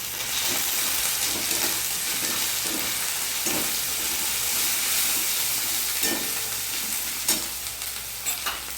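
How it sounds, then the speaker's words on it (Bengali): Ground spices with turmeric, sugar and Kashmiri and hot chili powder sautéing in oil for a Bengali chicken curry, making a loud, continuous hissing sizzle with intermittent stirring scrapes, with no voices. "মশলাটা কষিয়ে নেব"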